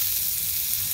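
Chopped onion drops into hot frying oil and sizzles, a loud, dense, steady crackling hiss that fills the whole moment with no talking.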